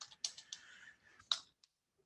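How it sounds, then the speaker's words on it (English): Typing on a computer keyboard: a few quick, light key clicks in a short irregular burst, then a pause and a couple of scattered taps, close and quiet, with no voices. "So you could start typing agent"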